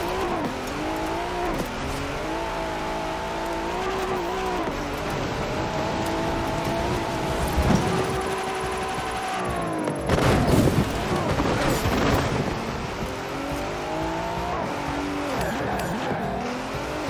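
Racing car engines in a Forza video game race drone and shift pitch steadily, with sharp tire squeals and skids breaking through near the middle, loud and continuous throughout.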